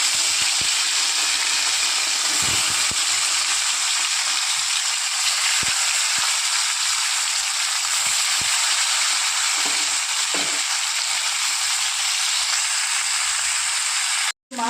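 Tilapia pieces frying one by one in hot mustard oil, a steady close hiss and crackle with small pops that runs unbroken and cuts off abruptly at the very end.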